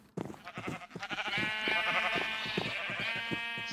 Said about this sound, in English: we're going to need to wait a bit to breed up the partner for yellow sheep